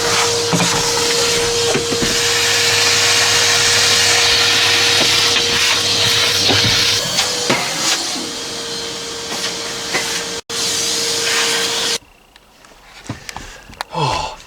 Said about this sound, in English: I hope she doesn't mind me using her Hoover